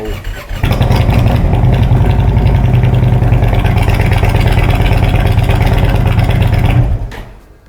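A 2019 Indian Chieftain Limited motorcycle engine starts and idles with a steady low rumble for several seconds, then cuts off, leaving quiet.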